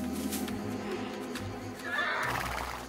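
A wild horse neighs in a cartoon, a loud whinny near the start and again toward the end, with soft hoof clops between, no talk.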